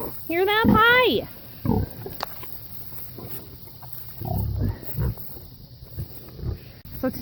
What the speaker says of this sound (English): Hear these pigs? Hear them?